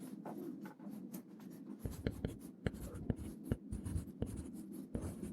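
Pencil scratching across test paper in a classroom, a steady run of quiet, close strokes and taps with brief pauses between words, alone without talk.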